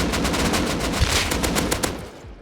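An AK rifle fires rapid automatic bursts during an ambush in a survival video game, with dense, loud, close cracks in quick rhythm that fade near the end.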